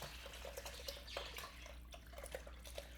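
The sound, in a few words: pouring hog head broth through a colander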